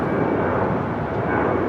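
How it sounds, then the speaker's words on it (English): Steady, loud roar of a heavy cargo Boeing 747 jet powering up for takeoff on runway 25 left at LAX, a continuous broadband rumble with no voices. "We got that Cargo Lux Queen going to be taking off on 25 left."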